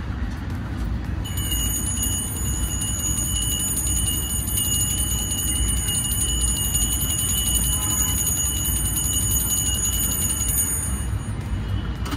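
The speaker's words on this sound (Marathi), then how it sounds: "घंटी वाजवतो." A small brass puja bell rings continuously in a home during Gudi Padwa prayers. The bright, steady ringing lasts about nine seconds over a constant low background hum.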